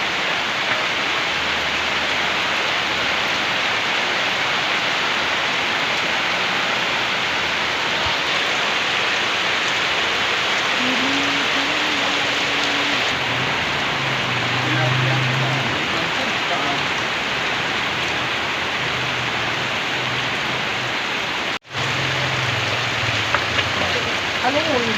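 Heavy rain pours steadily and loudly on a surface, a dense unbroken roar throughout with faint low background sounds mixed in.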